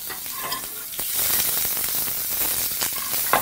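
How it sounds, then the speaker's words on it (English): Onions frying in a smoking hot pan, a loud steady sizzle and hiss that swells after a moment and holds, with occasional stirring clicks and no talking. "onto a nice smoking hot pan,"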